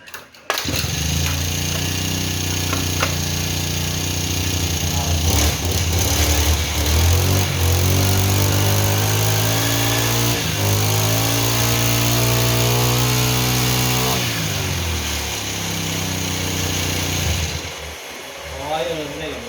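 A Stihl 070 chainsaw engine runs steadily after starting, a loud, close, continuous droning buzz with slight rises and falls in speed, holding for most of the stretch before cutting off near the end.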